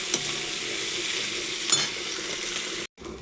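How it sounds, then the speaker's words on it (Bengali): Chopped tomatoes and eggplant frying in a pan for an eggplant and potato curry: a steady, close sizzle with light stirring scrapes, broken by a brief silence near the end before the frying returns. "এবার আমি এই টমেটো কাটাগুলো দিয়ে দেবো। এগুলো ভালো করে ভেজে নেব"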